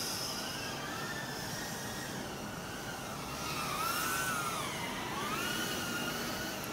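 An Acrobee 85 micro drone flying, a thin high whine that rises and falls in pitch as the motors change speed, heard faint and steady with no talk.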